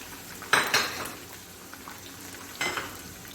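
Onion frying in a pan for beef bhuna keema, a low, steady sizzle broken by two bursts of scraping and clinking as a large spoon stirs it, close and without talk.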